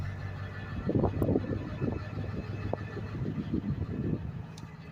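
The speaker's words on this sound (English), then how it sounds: "It's going to idle up now after sitting for a few minutes." A 2001 Amtrans International school bus with a 7.3 diesel engine idles after sitting for a few minutes, giving a steady, close, low rumbling chug with no talk over it.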